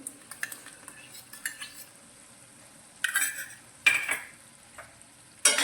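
Whisked yogurt stirred into a pan on a stovetop over a low flame: soft scraping and clinking of a spoon against the pan, with a few louder scrapes near the end, close and without talk.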